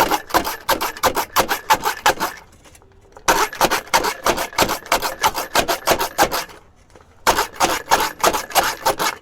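A homemade onion cutter being turned by hand to chop onions, rapid rhythmic clattering and scraping in three close bursts separated by brief pauses, no talk.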